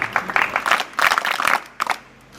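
An audience claps at a school principal's retirement ceremony, loud bursts of applause swelling and fading in several waves, close by and fairly sharp.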